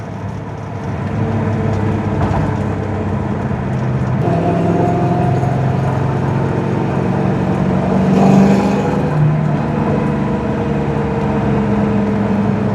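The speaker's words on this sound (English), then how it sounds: "we're going for a quick test drive here" A 1979 Pontiac Firebird Trans Am 10th Anniversary Edition engine hums steadily while driving, with road rumble and a slight rise in revs partway through; no talking.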